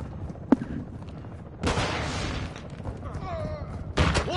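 Gunfire in a PS4 video game: a sharp single shot, then bursts of rapid firing with a later loud crack, fairly faint overall, mixed with game voices.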